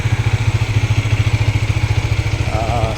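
A large motorcycle engine idles up close and loud, a steady fast thumping pulse with mechanical clatter that holds even throughout.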